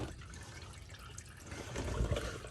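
Engine oil drains from a 2021 Ford Super Duty 6.7 Powerstroke diesel into a drain pan, a steady liquid pour and trickle that swells slightly toward the end, with no talking.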